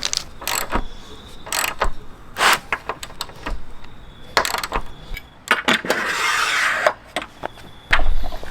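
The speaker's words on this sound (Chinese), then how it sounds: "然后我们开始锁这个螺丝。" Screws are tightened to lock a Rhino-Rack Pioneer Platform roof rack for a Jeep Wrangler, giving close, irregular metallic clicks, ratcheting turns and a longer scraping rub, with no one talking.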